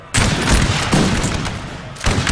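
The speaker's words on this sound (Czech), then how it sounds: "Ten první výstřel je kritický" Musket volley fire from a Napoleonic battle in a desert setting in Napoleon Total War, heard as one dense, crackling fusillade lasting about two seconds, followed by the start of another loud burst. No voices.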